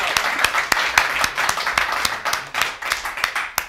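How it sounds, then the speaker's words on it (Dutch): Audience applause at a public award ceremony for politician of the year in Hilversum, steady moderate clapping with sharp individual claps standing out, fairly close and without talk. "Applaus."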